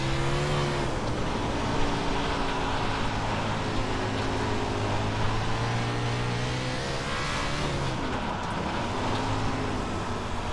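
A USAC 360 sprint car in iRacing drones steadily as it lifts off throttle on a dirt oval, engine note sagging and rising again in a continuous, loud roar with no talk.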